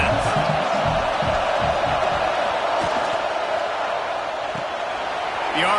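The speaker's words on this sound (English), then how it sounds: "This crowd trying to make life miserable for this offense." Stadium crowd roar in an NCAA college football video game, a steady broad wash of cheering noise throughout with faint thumps, sustained and fairly loud.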